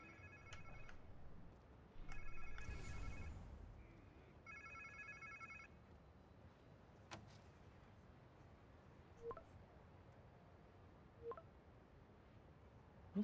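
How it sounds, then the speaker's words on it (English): An electronic phone ringtone in the video game Marvel's Spider-Man 2 trills in a few repeated bursts, fairly faint, over a quiet background with occasional small clicks. "Sounds like somebody's phone."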